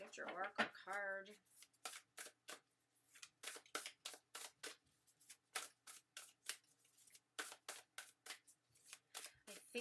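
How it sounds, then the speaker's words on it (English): Oracle cards riffle and snap in quick repeated bursts as they are shuffled, near and crisp, after a brief voice at the start. "So I'm just going to shuffle these up for you, Alyssa."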